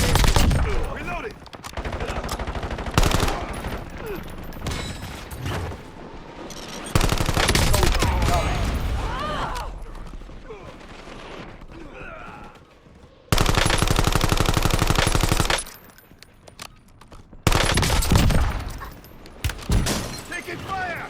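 Gunfire in Warzone solos: heavy bursts of automatic fire and loud single shots come in several dense blocks, separated by quieter stretches of game noise.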